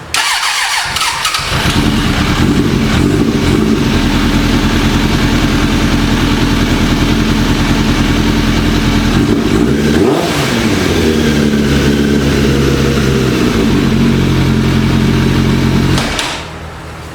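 A Suzuki GSF600 Bandit motorcycle cranks and fires on its first start after sitting, settling into a loud steady idle with a rev swell near the middle before the engine cuts off at the end.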